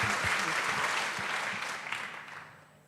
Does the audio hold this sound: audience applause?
yes